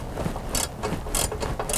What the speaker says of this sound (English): We can take the wrench here.